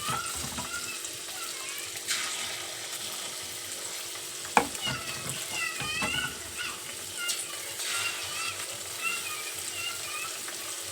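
Begun bhaja, aubergine fritters, frying in oil in a home kitchen, a steady hiss and crackle under faint clatter and stirring, with one sharp knock partway through.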